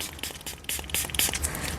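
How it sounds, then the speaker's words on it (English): Short hissing spray bursts of alcohol misted over fresh UV resin in a bookmark mould, several quick puffs close to the microphone with faint scraping between them. "I'm going to spray it with my alcohol in case there are any bubbles"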